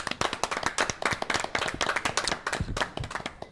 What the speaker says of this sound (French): Le voilà, on peut l'applaudir bien fort